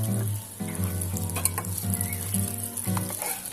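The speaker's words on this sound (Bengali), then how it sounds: "কাবাব আপনারা আপনাদের পছন্দ মতো ভেজে নিতে পারেন।" Sweet pumpkin kebabs frying in a pan, with a steady, crackling sizzle broken by occasional light stirring clinks. Close and moderately loud, with no talking.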